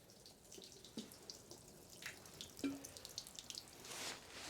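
Water poured onto the door seal of a Ram 1500 DT pickup truck, faint trickling and dripping with a few small splashes, no talk.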